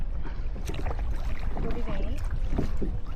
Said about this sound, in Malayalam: നമ്മളിപ്പോൾ മെല്ലെ തിരിച്ച് നമ്മൾ വന്നിടത്തോട്ട് തന്നെ തുഴഞ്ഞുകൊണ്ടിരിക്കുകയാണ്